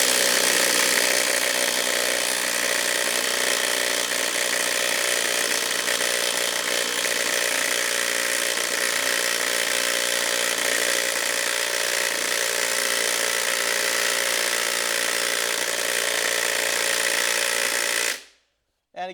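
A Hercules impact driver sinks big lag screws in a loud, continuous rattling hammer that runs steadily for about eighteen seconds, then cuts off abruptly.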